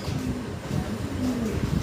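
Low, soft pigeon coos repeat through a steady murmur of background noise, close and fairly continuous.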